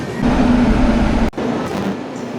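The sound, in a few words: train arriving on adjacent track, heard from Okha–Ernakulam Express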